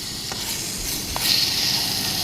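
Bacon frying in a metal canteen cup over a camp stove, a steady close hiss of fat crackling with faint pops, continuous throughout.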